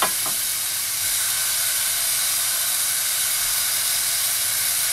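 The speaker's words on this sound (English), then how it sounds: "And it's about to sizzle." Cold burger patties hit a very hot pan and sizzle loudly in a steady, dense hiss that carries on without a break and with no talking.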